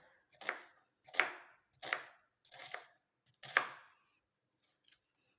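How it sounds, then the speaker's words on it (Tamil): A knife chops an ingredient into small pieces on a board, giving five crisp close cuts in a steady rhythm, then a pause and one faint final tap. "இந்த மாதிரி சின்ன சின்ன பீஸாக வந்து வெட்டி போட்டுக்கலாம்"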